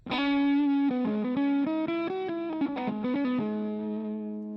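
A distorted electric guitar with reverb and snapbox gain plays a sequence of sustained notes with a reverb tail, the final chord ringing out and fading.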